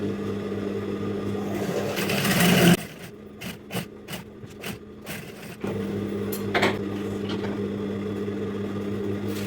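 A sewing machine stitches a seam on a flounce for a plunging neckline, humming steadily, pausing briefly for a few light clicks and handling noises, then running on again.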